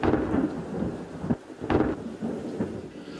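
A thunderstorm with torrential rain on a small island: a dense, steady rain hiss overlaid by several deep, rumbling thunder bursts, all fairly faint with no voices.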